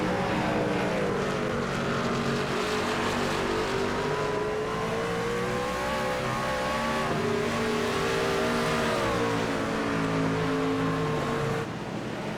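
Race truck engines at Watkins Glen rev hard through the gears, a loud continuous whine rising and falling in pitch as the trucks accelerate and brake, with faint tire scrub underneath and no talking.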